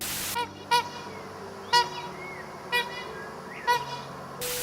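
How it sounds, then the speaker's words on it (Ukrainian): Loud, brassy trumpeting honks from trumpeter swans repeat about once a second, five calls in a row, close and clear over a faint outdoor background. "Лебеді трубачі навпаки видають гучні звуки, схожі на трубу."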